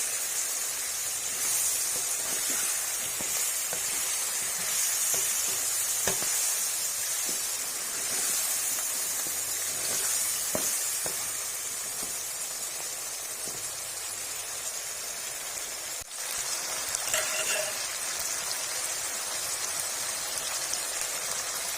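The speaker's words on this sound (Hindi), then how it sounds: "फ्लेम को थोड़ा सा हाई पे कर देंगे।" Potatoes and fenugreek leaves (aloo methi) frying in a pan on high flame, giving a steady, dense sizzle and spitting hiss throughout, close and continuous with no talk.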